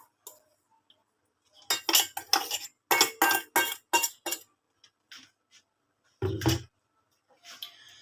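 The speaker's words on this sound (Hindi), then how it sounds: "चम्मच की मदद से अच्छे से इसे मिक्स कर देंगे" A metal spoon stirs fine homemade powder, including powdered rock sugar (mishri), in a bowl, giving bursts of close, bright clinks and scrapes in quick runs, separated by short quiet pauses, with a louder knock near the end.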